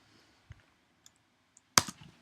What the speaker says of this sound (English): I'm going to type Joseph McCarthy